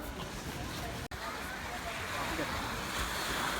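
Ocean surf on a beach in Portugal, a continuous broad roar of breaking waves with wind, loud and close, with one brief dropout partway through.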